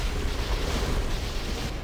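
A boss's explosion attack in the video game Dark Souls in the Demon Ruins, a loud, dense, sustained rumbling blast of noise that fills the whole stretch without letting up.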